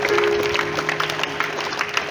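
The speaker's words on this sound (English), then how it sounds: "Clapping, energetic clapping." Energetic audience clapping at a school morning assembly, a dense steady patter of many hands filling the whole stretch at moderate level with a faint tonal hum underneath.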